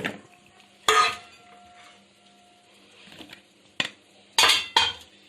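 Potatoes and onions tossed into sauce in a baking tray for an oven-roasted whole chicken, a few sharp clattering bursts of a utensil against the tray separated by quiet pauses.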